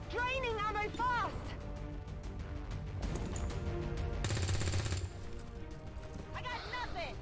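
Video game gunfire during a firefight against alien hostiles near a relay, bursts of shots crackling under radio-style voices and game dialogue, with a sustained louder volley in the middle.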